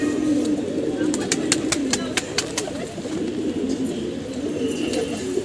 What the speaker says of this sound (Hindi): ये उड़ रहा है सफ़ेद कबूतर।